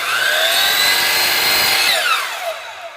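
A power saw cuts through wooden cabinet molding with a loud, steady whine for about two seconds, then the blade winds down and fades to quiet.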